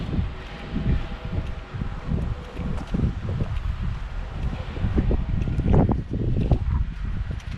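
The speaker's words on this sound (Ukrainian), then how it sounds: "хоч і вітер йде" Wind gusting steadily against the microphone, a low rumbling buffet with rustling that swells and fades throughout.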